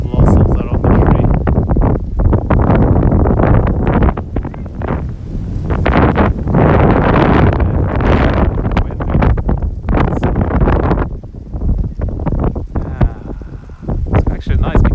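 Cold winter wind blows straight into the microphone outdoors in Japan beside a blooming cherry tree, making loud, continuous rumbling buffets that swell and ease in gusts while a person talks.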